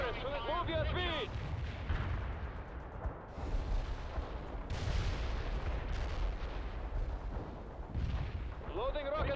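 Rocket launchers fire in the World in Conflict video game, a run of heavy booming blasts and rumbling explosions one after another, loud and continuous, with bursts of radio-style voice chatter between shots.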